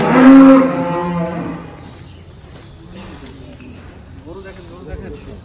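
A large cow moos loudly and close at an indoor cattle market, one long drawn-out low call, followed by quieter livestock and crowd murmur with people talking nearby.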